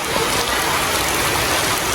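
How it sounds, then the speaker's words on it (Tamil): Steady rain falls throughout in Jaffna, a dense even hiss of drops on surfaces, loud and continuous with no voices. "மழையும் பெய்யுது"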